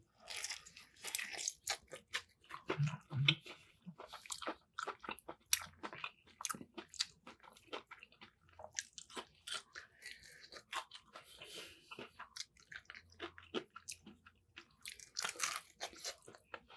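Crunchy bites and wet chewing on a Jollibee fried chicken drumstick with gravy, close and intimate, repeated crisp crunches and squishy mastication throughout with no talking.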